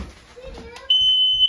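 A P3010K-CO smoke and carbon monoxide alarm is switched on by twisting it into place. A few soft clicks and handling noises come first, then a loud, sustained high-pitched beep sounds close by.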